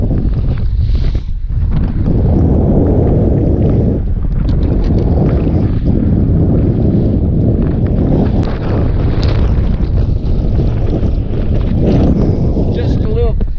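Strong, gusty wind of about 30 miles per hour roars and buffets the microphone on a bass fishing boat on a spring day, a loud, continuous rumbling wash throughout with a voice talking over it.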